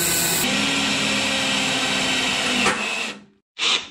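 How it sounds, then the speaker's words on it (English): A power drill bores through a Jeep hood grommet with a loud, steady whine that runs for about three seconds, winds down and stops, then gives one short final burst. "So that's why I'm just going to drill right through it"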